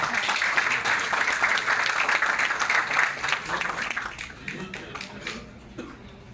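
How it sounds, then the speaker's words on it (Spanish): A room full of people applauding steadily at a tribute event at the Archivo General de la Nación, then the clapping thins out and fades away toward the end. "Un aplauso, por favor."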